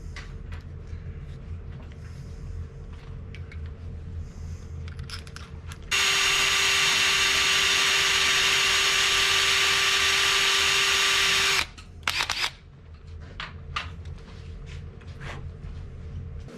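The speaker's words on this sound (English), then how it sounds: "In this case, we only want to drill 1 inch into the material." Power drill boring a pilot hole into the wooden leg of a grand piano, a loud, steady high whine lasting about six seconds, then stopping, with soft handling clicks and taps before and after.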